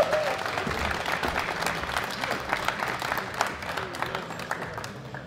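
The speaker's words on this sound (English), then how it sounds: "All right, give them a round of applause." Crowd applause fills the hall at a world classic powerlifting championship, steady dense clapping for the masters lifters, with cheers and faint voices mixed in throughout.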